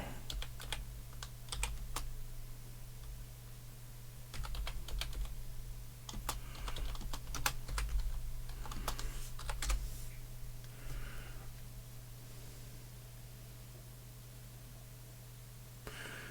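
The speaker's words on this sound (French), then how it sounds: "On va taper directement le titre du jeu." Clattering keystrokes on a computer keyboard as a game title is typed, irregular bursts of taps over a steady low electrical hum, close and fairly quiet, with no one speaking.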